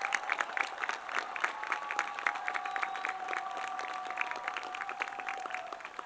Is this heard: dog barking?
no